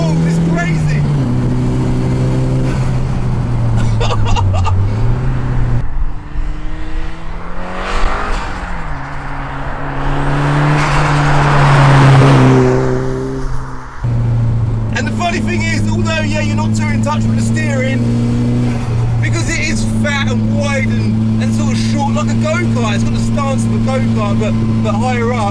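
A turbocharged Suzuki Vitara engine drones loud and close as it accelerates, its pitch rising and dipping between gear changes, with someone talking over it throughout.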